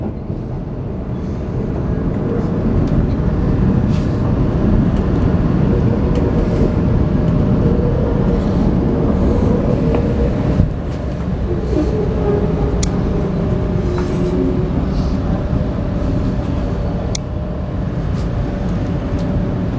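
V/Line A66 train pulling into a station, a steady loud low rumble of wheels and running gear with faint squeals, continuous throughout with a brief clunk midway.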